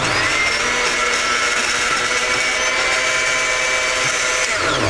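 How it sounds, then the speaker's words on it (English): A kitchen blender runs continuously, a loud, steady motorized whir that holds for the whole stretch with no break. "then you put the top on the blender. Then you mix it up"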